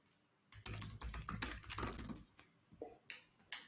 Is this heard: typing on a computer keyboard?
yes